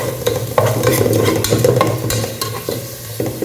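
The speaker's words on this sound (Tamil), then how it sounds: "பச்சை மிளகாய் போட்டு கொஞ்சம் அப்படியே வதங்கட்டும்" Green chillies fry in hot oil for kuska biryani, a loud, close, continuous sizzle with quick stirring scrapes through the short stretch.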